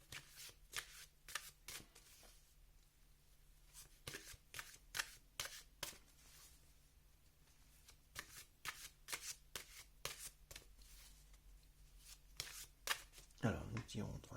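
Tarot cards shuffled by hand before a draw give a long run of crisp, close riffling bursts in an uneven rhythm, closing with a louder burst of handling.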